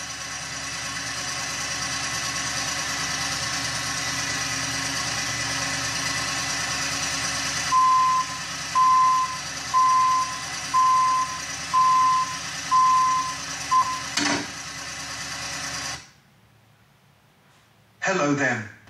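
A tow truck's engine idles and rumbles steadily while its reversing alarm beeps about seven times at an even pace. The engine then cuts off, leaving a brief loud noise near the end.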